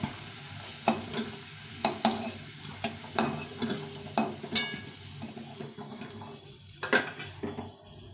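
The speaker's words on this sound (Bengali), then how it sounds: "আলুটা লাল লাল করে ভেজে নিয়েছি।" Potatoes frying in a pan, a soft sizzle broken by repeated clinks and scrapes of a utensil stirring against the metal, at close range.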